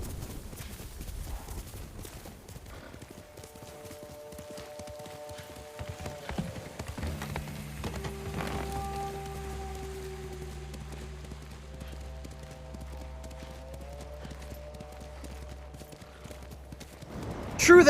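Horse hooves clip-clopping in the video game Ghost of Tsushima, a steady soft trotting patter mixed under sustained musical tones and ambient game sound.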